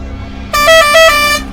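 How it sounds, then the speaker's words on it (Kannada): A lorry's air horn blasts once, close and loud, a steady honk of just under a second over low road hum. "ಸ್ಥಳೀಯರಿಂದಲೇ ಲಾರಿಯ ಹಾರ್ನ್ ಅನ್ನ ಒಮ್ಮೆ ಚೆಕ್"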